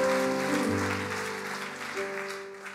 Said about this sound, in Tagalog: Isa pa hong best na palakpak sa Panginoon.